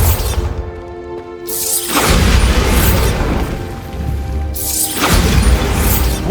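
Two booming Bombarda spell blasts in the video game Hogwarts Legacy, each a loud crash with rumbling debris, separated by a few seconds of mechanical clatter and ambience.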